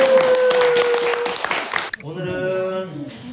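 Family members clap their hands together at a Lunar New Year gathering. It is a brief patter of applause mixed with chatter and a voice speaking over it, and then a music-like tonal sound takes over.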